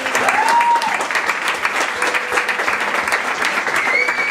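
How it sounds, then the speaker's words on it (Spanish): A rock concert crowd claps loudly and continuously for a band member, a thick, steady roar of applause with faint whistles and cheers rising now and then. "Por favor, un fuerte aplauso para Charlie."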